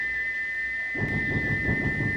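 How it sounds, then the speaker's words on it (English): A steady, high-pitched steam engine whistle holds one even tone throughout, joined halfway by a low rumbling roar, like a distant engine drawing closer. "Far away, but getting louder and louder, was the sound of an engine's whistle."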